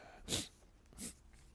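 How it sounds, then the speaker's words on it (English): Two short, sharp nasal blasts from a person blowing their nose, close and fairly quiet, separated by a brief pause. "I need to blow my nose."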